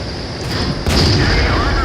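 A tank shell strikes and bounces off armor in the World of Tanks video game, a sharp loud bang under a continuous engine rumble, heard alone without talk.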